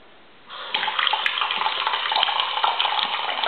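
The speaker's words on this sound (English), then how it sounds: "So I'm going to switch on the tap," Water from a household tap gushes into a steady, loud stream after a short quiet start, running continuously with a bright splashing hiss.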